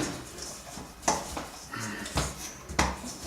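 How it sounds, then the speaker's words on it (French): Bread dough kneaded by hand on a work surface for a flamiche, a few soft irregular slaps and thumps with quiet rustling between them. "On va continuer à la pétrir pendant un petit moment."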